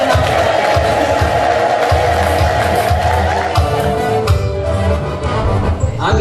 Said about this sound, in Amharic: እልልታ ጭብጨባ ለእግዚአብሔር